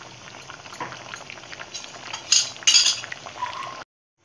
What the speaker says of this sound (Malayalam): കോവയ്ക്ക വേവിക്കാൻ ആവശ്യത്തിന് വെള്ളമൊഴിച്ച് നല്ല വേവിക്കണം